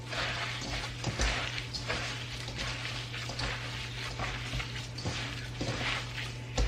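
Eggs and milk are whisked together in a bowl for a home-cooked dinner, giving a steady, close swishing and sloshing with occasional light clinks against the bowl, continuous for several seconds with no talking.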